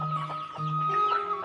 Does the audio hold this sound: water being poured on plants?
no